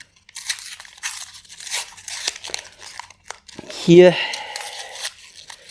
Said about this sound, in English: let's just rip it apart